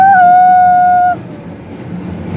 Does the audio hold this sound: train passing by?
yes